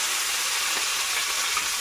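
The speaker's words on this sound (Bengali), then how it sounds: "এদিকে একটা প্যান বসিয়ে তেল দিয়েছি, তেলের মধ্যে নিম পাতা দেবো।" Neem leaves frying in oil in a pan, with a steady, dense hiss and sizzle at close range and no voices.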